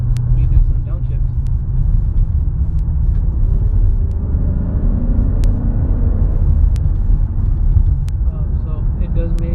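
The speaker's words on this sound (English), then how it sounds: "but let me do some downshifts." A Maserati GranSport's engine revs as the driver downshifts, rising over a constant low road and engine rumble heard from inside the car, with a brief break in the drone toward the end.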